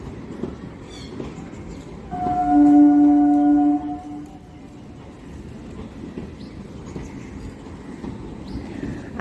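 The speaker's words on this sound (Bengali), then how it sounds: "আর এখন আসছে ট্রেন। মনে হচ্ছে ট্রেনটা আজ একদম সামনের লাইনটা দিয়ে যাবে।" A train rolls slowly along the empty number 1 platform line at a station. A loud horn blast sounds once for about a second and a half over steady ambient rumble, then fades back into background noise.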